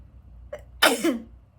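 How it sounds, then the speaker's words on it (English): A single sharp sneeze, close and fairly loud, preceded by a short quick inhale, with quiet room tone around it. "I'm gonna sneeze."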